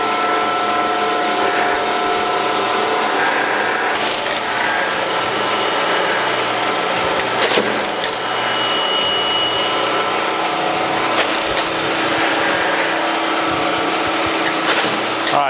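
A surface grinder's wheel grinds across a magnetic chuck in a machine shop, a loud, continuous whirring hum with steady pitch and periodic faint scraping swells as the wheel traverses, with no talk.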